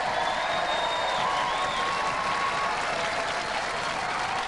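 A studio audience at a Robot Wars semi-final applauds the team behind the robot Dominator 2, with steady, dense clapping and crowd noise throughout and no speech.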